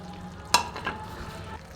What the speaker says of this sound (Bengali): এবার আমি ভাজা মাছটা দিয়ে দিচ্ছি